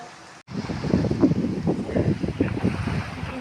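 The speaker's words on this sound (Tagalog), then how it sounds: "You can hear the waves." Ocean waves wash ashore at a resort at sunset, a soft continuous surf with wind buffeting the microphone, heard close and moderately loud after a brief gap at the start.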